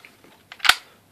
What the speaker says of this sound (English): The bolt has a spring tension, and when it sort of gets it open enough, it will spring out